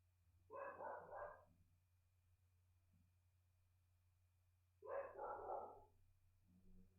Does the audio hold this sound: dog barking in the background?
yes